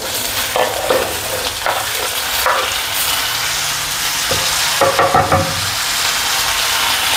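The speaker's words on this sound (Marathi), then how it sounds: "आता मी टमाटर टाकते।" Tomatoes fry in a hot pan for a spicy thecha, giving a steady close sizzle with occasional scraping and clinking as they are stirred. No one speaks.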